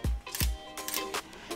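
Camera shutter firing in burst mode on a used camera, its mechanical curtain snapping in a rapid series of sharp, close clicks, with two heavier thuds at the start, heard on its own.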